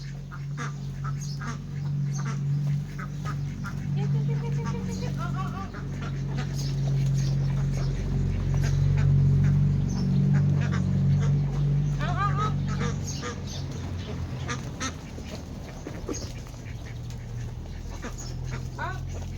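Around ten ducks quack repeatedly in short, nasal bursts close by, mixed with a dog's whimpering and panting over a steady low hum, with some talking in between.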